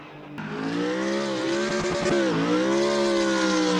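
Porsche race car engine crossing the finish line: a loud, steady high-revving drone with strong harmonic whine, pitch dipping briefly then holding, close and alone without talk.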